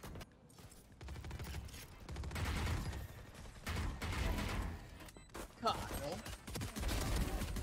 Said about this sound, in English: there's more gunshots